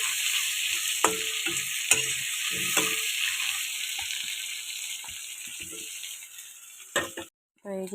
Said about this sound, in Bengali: তো এই যে বন্ধুরা, আমার আলু ভাজাটা কমপ্লিট হয়ে গেল